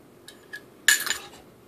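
A metal pot stand set onto a Trangia camping stove gives a sharp, close metallic clank, preceded by two faint light taps.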